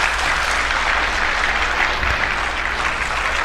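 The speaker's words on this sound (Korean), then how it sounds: "자, 박수로 맞이해 주시기 바랍니다." A live audience greets a singer with steady, full applause that fills the room evenly and continues unbroken, with no voices heard over it.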